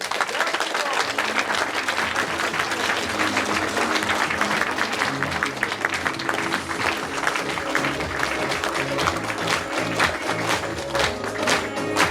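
Sustained applause from a large audience fills the hall with dense, steady clapping from start to finish, along with some crowd murmur, and no words can be picked out.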